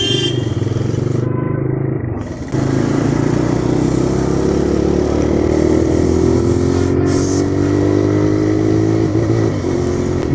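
Steady motorcycle engine drone while riding along a road, a continuous loud low rumble with slowly rising and falling tones and a brief dip partway through, no voices.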